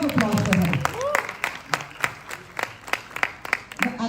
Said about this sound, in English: A loud round of applause for her.